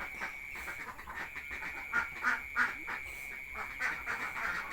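Faint, nasal duck quacks repeat in short bursts against a steady background hiss, heard from some distance.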